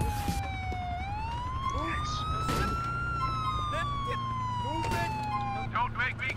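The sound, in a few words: police car siren in video game Grand Theft Auto IV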